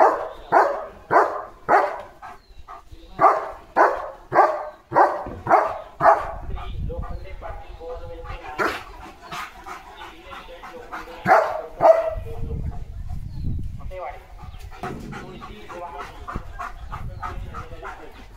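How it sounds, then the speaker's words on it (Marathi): A German shepherd pants heavily outdoors in a quick run of rhythmic, breathy gasps that fade into sporadic puffs, with a voice talking intermittently. "किती दम लागलाय, किती दम लागलाय."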